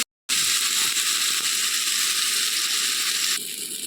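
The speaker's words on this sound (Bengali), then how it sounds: "এখানে আমি এক মিনিট মতন মশলাটাকে ভেজে নিয়েছি" Spices frying in hot oil in a pan for a tinda curry, a loud close steady sizzle and crackle that starts abruptly after a brief silence and continues without a break.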